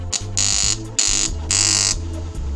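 A homemade tone generator, an IC driving two MOSFETs, blares a loud electronic tone in three strong bursts separated by shorter, lower-pitched pulses, close and alone.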